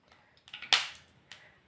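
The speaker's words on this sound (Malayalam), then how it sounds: "കടുകിട്ട് പൊട്ടിക്കഴിയുമ്പോൾ" Mustard seeds popping in hot oil make a few sharp, close crackles and pops, one much louder than the rest, over a quiet background.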